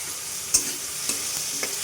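Potatoes fry in a pan with salt, turmeric, chili, cumin powder and ginger-garlic paste, giving a steady hissing sizzle. A few soft clinks of a spatula stirring the pan sound over it, with no talking.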